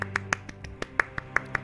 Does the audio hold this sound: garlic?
no